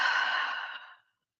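A single long exhale blown out through the mouth during a guided morning breathing and tapping exercise, a steady airy rush close to the ear that fades out after about a second, followed by silence.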